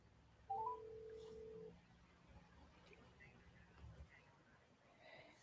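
Telephone keypad tones sound as a short burst of dialing beeps, followed by a faint background hum and low murmur.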